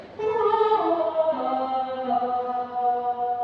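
Alto section of a community choir singing its line in rehearsal, sustained harmonious notes gliding downward, clear and close with no other sounds.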